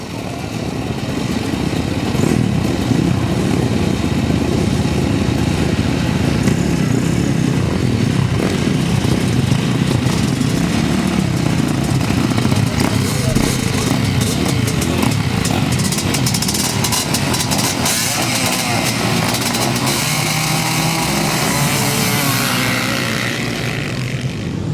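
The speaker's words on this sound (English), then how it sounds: "Before then, of course, we've got the quads." Quad bikes racing at a grasstrack meeting, a loud continuous roar of several engines that stays dense and steady, with a pack passing near, and no talk over it.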